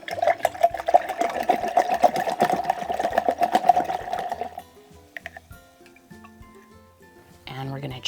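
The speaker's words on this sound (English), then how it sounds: "And rinse." A paintbrush sloshes and swishes rapidly in a container of rinse water for several seconds, steady and close, then goes quiet, with a voice speaking briefly afterward.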